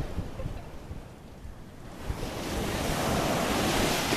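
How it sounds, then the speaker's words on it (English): Atlantic Ocean surf washes in steadily, quieter for the first two seconds and then swelling into a louder, continuous rush of breaking waves with some wind buffeting the microphone. "Here we are, the ocean."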